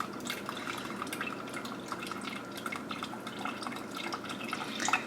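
Water trickling and dripping slowly through a bed of steeping grains while an oatmeal stout is brewed, a continuous soft patter of drops with a slight gush near the end, no speech.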